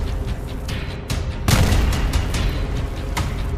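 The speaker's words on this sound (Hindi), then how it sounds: "धमाके शुरू हो चुके हैं।" Explosions from news footage of fighting in the Middle East, with a continuous roar of blasts and a sharp, louder boom about halfway through, with no talk.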